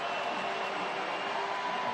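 A stadium crowd at a Tampa Bay Rowdies versus Rhode Island FC soccer match swells into a steady, broad roar that holds for the full two seconds, with no break in the wash of voices.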